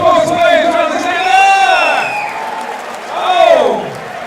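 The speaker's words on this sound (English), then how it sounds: "Give him a round of applause, please, brothers and sisters." An audience at an amateur welterweight fight cheers after a bout, with loud rising whoops and shouted voices in two swelling waves over a background of crowd noise.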